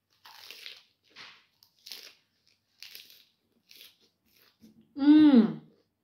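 Pork skin is crunched in a loud, close bite near the end, after a series of softer scattered sounds with brief speech-like bits.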